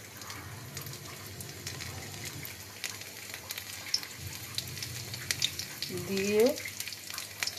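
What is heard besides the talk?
chopped garlic frying in hot oil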